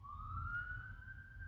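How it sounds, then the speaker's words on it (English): A police-type siren wails faintly in the background, one steady rising tone over a low rumble, distant and alone with no talk. "sorry if you hear sirens in the background"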